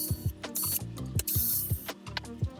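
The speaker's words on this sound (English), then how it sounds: "total of 4 screws to take out now before we can actually remove the board" A screwdriver backs screws out of a Super Nintendo main board, making a close series of quick ratcheting clicks and small scraping turns in short, uneven bursts with no talking.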